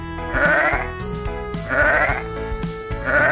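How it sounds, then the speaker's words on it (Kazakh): Sheep bleating in three loud, wavering calls spaced about a second apart, each a harmonic-rich baa, with a light musical backing underneath and no voices. "Қой."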